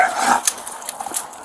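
A dog barks loudly at close range during a police encounter, one short sharp bark followed by quieter scuffling and movement.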